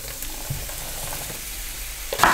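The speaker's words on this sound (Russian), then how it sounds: "И теперь буду обжаривать кабачки." Soft, steady frying sizzle of zucchini in vegetable oil in a pan with a faint hiss throughout, plus a couple of brief clinks near the end.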